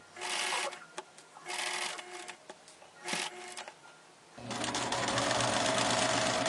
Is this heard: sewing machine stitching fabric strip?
yes